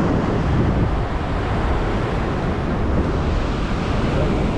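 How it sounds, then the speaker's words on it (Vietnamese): Big, rough sea waves at a beach on a stormy day, with heavy foam, rumbling as a continuous loud wash with strong wind buffeting the microphone throughout. "Biển hôm nay sóng rất lớn mọi người ạ."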